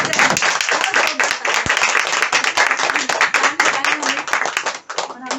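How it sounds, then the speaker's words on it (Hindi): Loud, vigorous audience applause for a speaker at a business seminar in a herbal store, a dense close wash of clapping hands sustained throughout with no break. "एक बार सर के लिए जोरदार तालियां हो जाए।"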